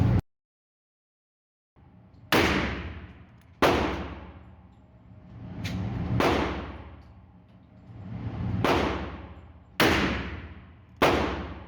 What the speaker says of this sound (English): First time I've ever shot a 44 mag.